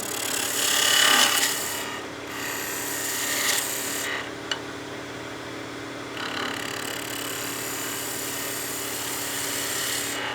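A skew chisel cuts a wooden snowman oil candle spinning on a lathe, producing a close, continuous hissing scrape that swells and fades over several passes beneath a constant motor hum, with a brief click midway.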